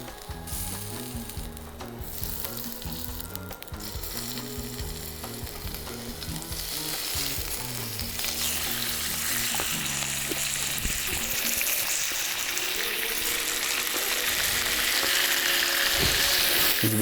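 Ribeye steak searing in a hot pan, a loud, dense sizzle that swells steadily and grows brighter and harsher over time, close up with no talk.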